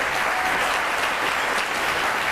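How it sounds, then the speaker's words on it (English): A crowd at a Marine Corps Air Station retirement and Wall of Fame reception claps steadily in dense, sustained applause that fills the whole moment without a break. "give a final round of applause"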